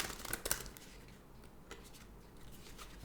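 Animal spirit guide oracle cards are shuffled in a few quick riffling bursts near the start, followed by softer rustling, faint and close, with no voices.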